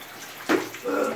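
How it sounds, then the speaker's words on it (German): Water splashing as a bottle is lifted out of an ice-water bath, two short sloshing bursts close by with no talking. "Jetzt holen wir die Eisflasche raus"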